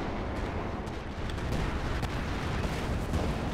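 Heavy artillery fire in Company of Heroes 2 during a massive German counterattack, a continuous dense rumble of booms and blasts that stays loud and unbroken throughout.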